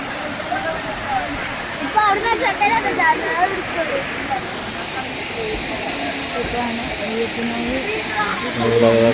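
Ayyappanov waterfalls pour with a continuous broad roar that stays loud throughout, while people talk over the rushing water.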